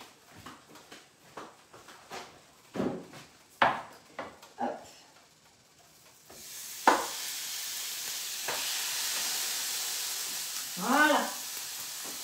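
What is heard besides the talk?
côte de bœuf searing on a grill to make grill marks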